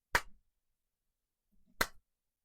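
A single quiet hand clap, sharp and brief, followed by a short silence and then a second faint clap, with no talking.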